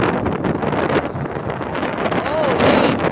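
Wind buffets the microphone on a boat at sea, with rushing air and sloshing waves, loud and gusty, while a voice calls out briefly over it.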